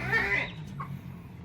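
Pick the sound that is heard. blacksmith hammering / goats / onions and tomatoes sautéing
goats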